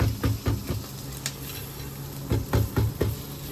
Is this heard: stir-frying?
yes